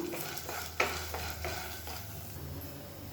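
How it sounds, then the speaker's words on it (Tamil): Chana dal dry roasting in a pan until golden, a close steady rustling sizzle with repeated stirring scrapes and one sharp clink. "நல்லா பொன்னிறமாக கடலைப்பருப்பு வறுபடணும்."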